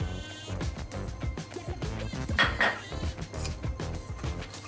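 A spoon or whisk clinks and scrapes around a bowl as eggs are stirred into lemon tart mixture, a busy run of close, bright metallic taps with no talk.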